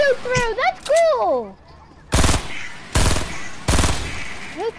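Three loud bursts of automatic gunfire ring out close in a squad shooter game, each a short rattling volley, following an excited voice shouting at the start.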